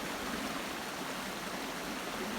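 The Little Isabella River in the Minnesota woods rushes in a steady, full hiss of flowing water close by, even and unbroken, with no voices.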